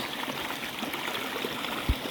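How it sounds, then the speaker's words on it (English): Natural stream water flowing through Lajab Valley in Jazan, Saudi Arabia, a steady close wash of trickling water with one brief low thump near the end, and no voices. "Wallah, it's very natural water."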